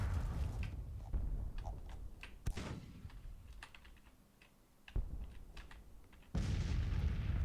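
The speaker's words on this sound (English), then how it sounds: "I'm gonna order them to do counter battery fire and try to put the hurt on this first battery" Artillery counter-battery fire in the Civil War strategy game Grand Tactician: a few sharp, distant booms scattered over a low rumbling background, mixed with soft clicking taps.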